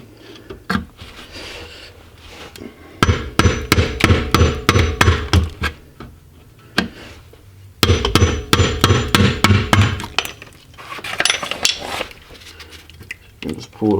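A hammer strikes a screwdriver to pry loose the differential cover on a Jeep Cherokee XJ, sharp metallic clanks in rapid bursts of repeated blows with pauses between, close and loud.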